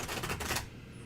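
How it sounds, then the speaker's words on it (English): A tarot card deck being shuffled, a dense burst of papery riffling and flicking that fills the first half-second before dropping away to quiet room tone. "I could shuffle this deck all night."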